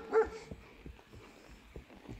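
A dog tied to a camper van barks in short, fairly faint bursts, one stronger near the start and scattered softer yips after, against outdoor background noise.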